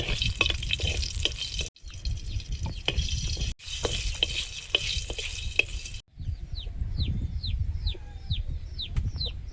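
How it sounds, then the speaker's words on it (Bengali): Two dried red chillies tempering in hot oil give off a steady, close sizzle that breaks off briefly twice, with a rooster crowing repeatedly in the background near the end. "তেল ফোড়নে দিয়েছি 2টো শুকনো লঙ্কা"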